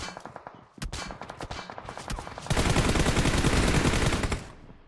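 Rapid automatic gunfire in PUBG Mobile, with bursts of close, sharp shots that quicken into a dense, continuous volley lasting a couple of seconds before cutting off.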